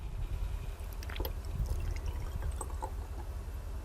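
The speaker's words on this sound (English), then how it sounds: "And I pour that into the little cup." Distilled water poured from a gallon jug into a small cup, a soft continuous trickle with faint splashes heard close up over low background rumble.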